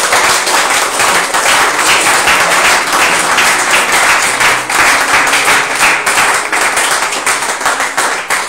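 A congregation at a church service claps steadily and densely, sustained applause from many hands close by, with no clear voices standing out above it.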